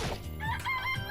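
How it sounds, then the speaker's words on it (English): Chicken clucking and crowing calls from a live chicken in the video game Danganronpa: Trigger Happy Havoc, a short burst of several close, loud fowl calls with game sound underneath. "It's a chicken. It's really alive"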